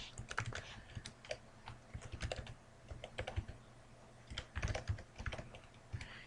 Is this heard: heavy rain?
no